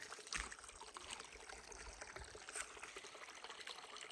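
Water trickling at a desert stream along the Arizona Trail, a faint, steady hissing flow with a few soft splashy gurgles.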